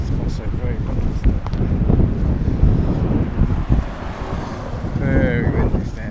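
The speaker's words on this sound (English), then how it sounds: "It's also very windy." Strong wind buffets the microphone on a walk toward Mackenzie Beach in Larnaca, Cyprus, a loud continuous low rumble with gusts throughout, while a person talks intermittently underneath.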